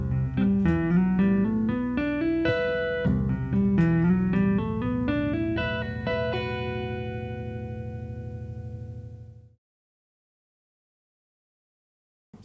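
Slowed-down electric guitar passage from a progressive metal piece, a dense run of bright picked notes over a sustained low tone, ringing out and fading to silence near the end.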